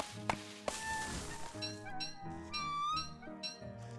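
Cat in the Don't Starve Together video game meows several times in short, fairly close calls, mixed with a couple of sharp chopping thunks at the start.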